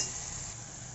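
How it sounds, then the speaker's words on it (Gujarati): Fresh spinach drops into a hot pan of sizzling tempering, a steady broadband hiss of frying that stays even and close for about a second. "હવે આપણે તેને પાલક લઈ લઈશું."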